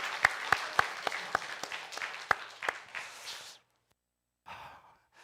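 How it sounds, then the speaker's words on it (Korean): Applause from a church congregation for its choir after a Sunday worship service, a dense spell of clapping for about three and a half seconds with a few sharp claps standing out, then silence and a brief faint second burst. "우리 박수 한번 더 경례하겠습니다."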